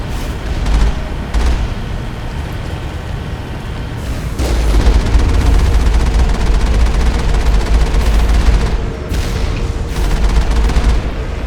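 Sustained, loud gunfire and heavy booms from a firefight against heavy turrets in the game Mass Effect, dense and continuous with rumbling low-end impacts throughout and no speech.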